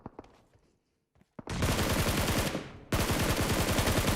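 Gunfire in PUBG Mobile during a championship match: a few faint shots, then dense sustained automatic bursts from about 1.5 seconds, loud and continuous with a brief dip before resuming.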